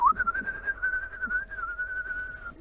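A person gives one sustained whistle imitating a bird, holding a steady, slightly wavering tone for about two and a half seconds over faint outdoor background noise.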